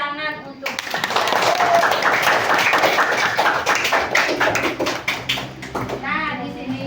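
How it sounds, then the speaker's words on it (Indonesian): Children clap together in a classroom, a dense patter of many hands lasting several seconds, with a teacher's voice before and after the applause. "Tepuk tangan untuk Cynthia."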